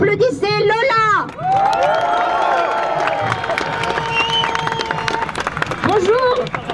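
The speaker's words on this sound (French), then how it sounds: "Je la laisse parler, applaudissez Lola." A crowd at an outdoor protest against the health pass in Avignon, France, cheers and applauds with whoops and shouts, a dense roar of noise with voices rising above it.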